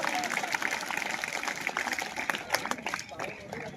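Clapping from an audience at a village gathering, a steady patter of hand claps under people talking, with a few sharper, louder claps toward the end.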